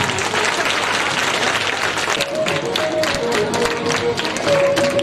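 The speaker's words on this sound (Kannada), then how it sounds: "ಜೋರಾದ ಚಪ್ಪಾಳೆ" Loud, sustained applause from an audience at the opening ceremony of a school building for the blind, dense clapping filling the whole stretch with a few faint tones and voices underneath.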